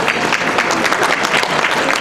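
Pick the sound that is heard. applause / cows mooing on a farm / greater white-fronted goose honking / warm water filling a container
applause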